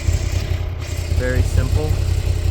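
A 2023 Moto Guzzi V85TT motorcycle engine idles with a low steady rumble, close by, while someone talks over it.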